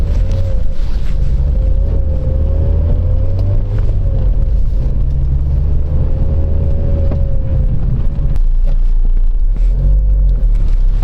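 A 2008 Mazda MX-5 GT, rear-wheel drive, rumbles loudly and steadily from inside the cabin while driving in winter snow, with a faint rising and falling whine.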